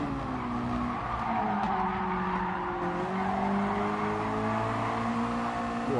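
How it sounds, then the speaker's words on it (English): A race car in a racing video game oversteers on the throttle. Its tires squeal and skid over a loud, steady engine note that rises and falls with wavering pitch the whole time. "A bit of oversteer as I get on the throttle early again"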